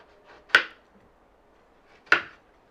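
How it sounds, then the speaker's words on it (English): A knife cuts one-inch slices through half a watermelon set face down, giving two crisp, separate chops about a second and a half apart, close and fairly loud with quiet between them. "Now using 1/2 of the watermelon face down, begin to cut 1-inch slices from one side to the other side"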